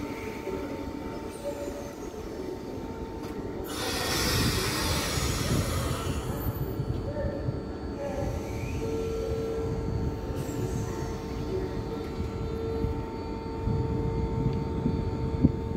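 Steady rumble and hum inside a moving Belgian passenger train, with a constant tonal whine, rail rattle and a louder rushing surge partway through, no voices.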